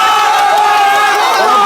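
A crowd cheers and shouts loudly for the second-place team at a competition between inmates, guards and a Koh-Lanta team inside Fresnes prison. The dense, sustained roar lasts under two seconds, with raised voices.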